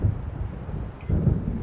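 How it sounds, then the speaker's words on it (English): Low thunder from a storm approaching in the Alan Wake game rumbles in the distance, a continuous deep roll that swells again near the end, with faint wind and rain beneath. "It seems there's a storm coming."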